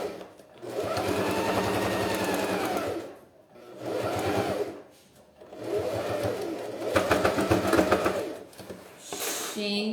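A sewing machine topstitches a seam on a fabric beach visor pouch, running in several steady whirring bursts separated by short pauses, close and clear.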